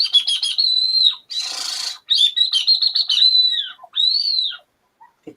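A small metal whistle held in the mouth imitates birdsong: warbling, chirping whistled phrases close by, broken by one breathy rushing burst and a few short pauses.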